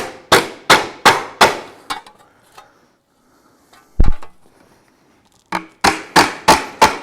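Hammer blows shaping tucks into a sheet metal café racer fender, ringing in two close, loud bursts of five strikes each, with a few scattered taps and one heavy knock between them.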